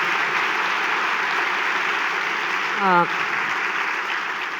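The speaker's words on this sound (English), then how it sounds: "So I think we should give her another round of applause." An audience at a conversation event with Dr. Madeleine Albright gives a woman another round of applause, a steady, dense roar of clapping that holds level throughout, briefly crossed by a short rising voiced cry near the end.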